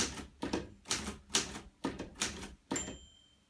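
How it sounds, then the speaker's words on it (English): A manual typewriter is typed on with a run of loud, evenly spaced key strikes, then a small bright bell rings near the end of the line and fades out, close up with no speech. "There's a little ding. And when you hear the ding, you pull this carriage return lever."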